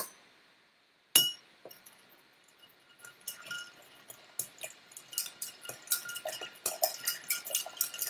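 Ice clinks and rattles against a glass as a bourbon cocktail is stirred, beginning with a sharp chink after a brief silence, then a rapid, irregular series of close, bright clinks.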